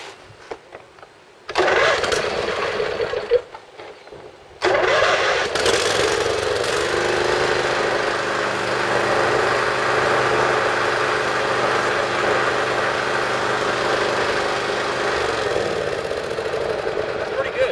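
Riding lawn mower engine fitted with a second muffler at the tailpipe cranks and catches, stutters briefly, then settles into a steady, moderately loud idle that holds to the end.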